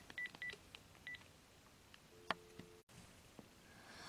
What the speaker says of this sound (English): So let's dial him again.